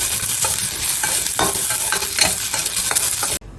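Food is sautéed in a pan for a wedding-style home cooking dish, with loud sizzling and repeated scraping stir strokes at a steady rhythm, stopping abruptly near the end.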